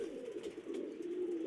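Pigeons let out of their coop and sitting outside coo steadily nearby, one low continuous rolling call running throughout with no talk.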